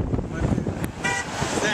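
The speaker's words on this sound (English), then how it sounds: "Did you count all 26 honks?" A car horn toots in the distance beside a North Dakota roadway, partly masked by traffic noise and people talking nearby.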